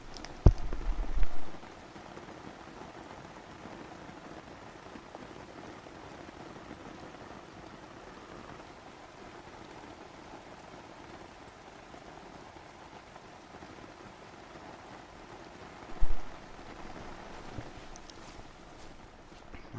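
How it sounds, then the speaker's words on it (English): Steady, even rainfall in a hunting video game, a continuous hiss of drops on surfaces that runs throughout, broken by two louder thumps near the start and again late on, with no talking. "Why is it raining? I don't want it to rain."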